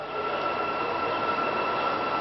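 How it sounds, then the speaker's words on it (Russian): A Korean-built Hyundai express train pulls alongside a platform at Kyiv station, its steady rolling rumble and faint high wheel whine continuing evenly at moderate distance with no voices. "Корейский поезд под названием «Украинский экспресс» подают на платформу Киевского вокзала."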